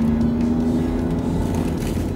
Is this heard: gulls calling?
no